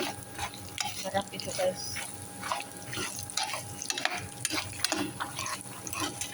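Peanuts fried with plenty of garlic are stirred in a pan, giving repeated rattling, clicking scrapes over a light frying hiss, close by, with a person briefly talking.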